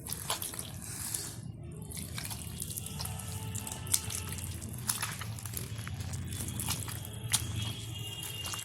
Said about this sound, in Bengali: এবার জল ভালোভাবে ঢেলে পাতলা একটা ব্যাটার তৈরি করে নেব।